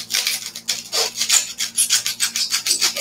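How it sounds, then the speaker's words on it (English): A paint scraper rasps in steady back-and-forth strokes at close range on a Father's Day centerpiece craft, about a dozen rough rhythmic scrapes over a faint hum, with no talking. "so what I usually use is a paint scraper."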